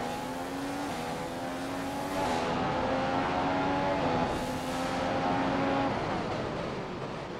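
A Formula 1 car in the F1 2015 video game at the Belgian GP, engine note stepping down through gears as it brakes hard into corners, then swelling again twice. Continuous, close and fairly loud, with no talk.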